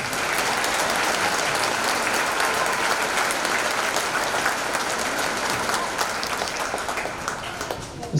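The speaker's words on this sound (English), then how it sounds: "Please give them a round of applause." Sustained applause from a high school graduation audience honoring the school board, a dense wash of clapping that stays loud and steady throughout, tapering slightly near the end.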